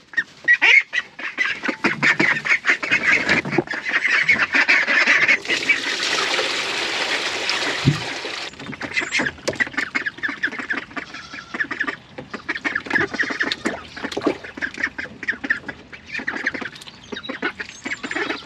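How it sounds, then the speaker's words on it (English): A flock of ducks quacks loudly and continuously close by, overlapping calls in an excited, busy chorus with no talking. "First up, the ducks."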